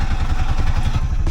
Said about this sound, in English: So because we're in neutral, we can then turn the key.